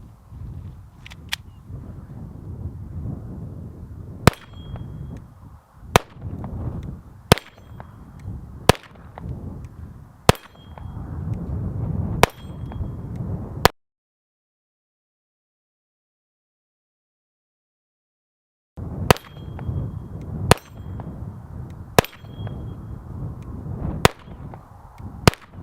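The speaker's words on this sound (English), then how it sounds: "Shooting some Stinger." A Taurus TX22 pistol firing CCI Stinger rounds at steel targets, sharp loud cracks spaced a second or two apart, a run of about eight shots, a silent gap, then another string of shots.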